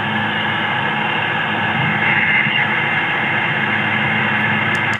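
A played-back recording of white noise captured at a cemetery, a loud steady hiss with a faint hum beneath, unbroken for several seconds before cutting off abruptly.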